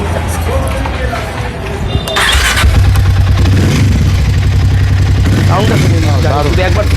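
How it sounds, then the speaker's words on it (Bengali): A second-hand Harley-Davidson motorcycle fitted with many aftermarket extras idles and revs with a deep, loud, steady engine rumble, while someone talks loudly nearby throughout. "সাউন্ডটা হার্লে ডেভিডসনের সাউন্ডটা শুনে নিন"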